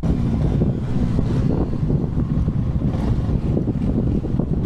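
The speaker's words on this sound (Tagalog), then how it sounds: "Sobrang lakas ng hangin." Strong wind buffets the microphone on the San Nicolas–Itogon mountain back road in Benguet, a continuous loud low roar with no other clear sounds.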